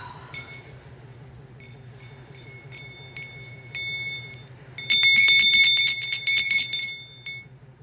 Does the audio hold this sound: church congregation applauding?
no